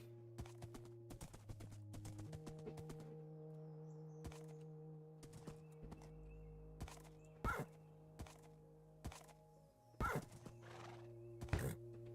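Minecraft horse neighs in several loud bursts over a steady game background, with hollow clip-clop hoofbeats and a few thuds landing between the whinnies.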